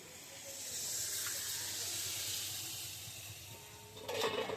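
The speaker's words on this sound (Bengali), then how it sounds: "মশলাটা কষে গেছে এবার আমি জল দিয়ে দেবো" Water poured into a hot pan of spiced fish curry gives a soft, sustained steamy hiss at moderate distance, ending with a brief louder clatter of stirring.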